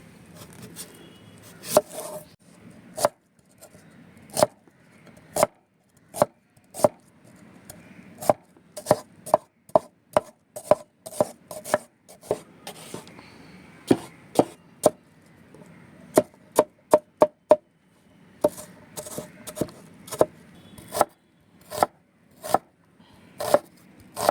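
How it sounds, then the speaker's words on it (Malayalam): Onion being sliced with a knife on a board for paal kappa, sharp rhythmic chops coming in quick bursts and steady runs, close and clear with no talking. "നമുക്ക് സവാള അരിഞ്ഞ് ചായച്ചിട്ട് കൊടുക്കാം"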